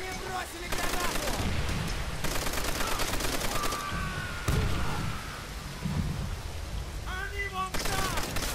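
Gunfire in Call of Duty: World at War, rapid machine-gun bursts and scattered rifle shots in a chaotic battle, loud and repeated with brief gaps, while soldiers shout over the shooting.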